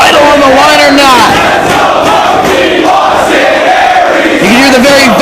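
Loud, dense New York wrestling crowd at a Ring of Honor match, roaring and chanting continuously with rising shouts and whoops throughout.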